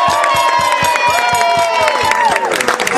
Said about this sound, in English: You need to give your best and loudest applause for whoever you think is the winner.